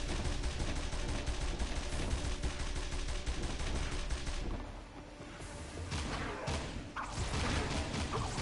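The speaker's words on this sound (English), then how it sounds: "Those turrets are tearing us up." Turrets firing in the video game Jak & Daxter: The Lost Frontier, dense rapid bursts of gunfire in a continuous barrage that briefly thins out midway before blasts and whooshes resume.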